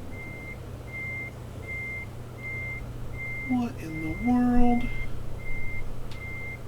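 Truck reversing alarm in Euro Truck Simulator 2: steady evenly spaced beeps over a low engine rumble, with someone speaking briefly and a horn-like tone sounding midway.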